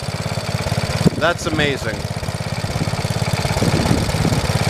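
A 1973 112 garden tractor engine runs steadily at idle right after its ignition system was replaced, with a close, even throbbing pulse throughout while a person briefly exclaims over it.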